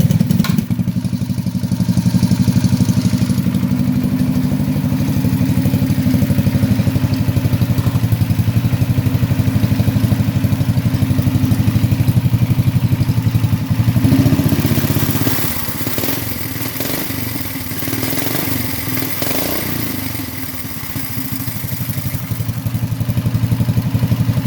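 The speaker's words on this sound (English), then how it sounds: "I'll go ahead and pull start it here since I can do that" A fun buggy's small engine runs at a steady, loud idle close by, its chugging hum continuing throughout with a shift in tone partway through after being pull-started.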